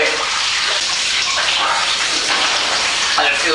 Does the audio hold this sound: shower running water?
yes